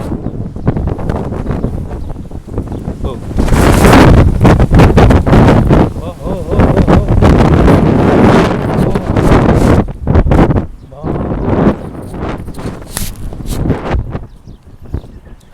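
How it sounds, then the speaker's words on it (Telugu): A strong dust-storm wind in Kuwait roars and buffets the microphone in heavy continuous gusts. It surges louder for long stretches and briefly dips near the middle before blasting again, close and overwhelming. "ఎంతలా ఉందో వాతావరణం ఈరోజు కువైట్లోను చాలా భారీ గాలి దుమ్మ అయితే వస్తుంది"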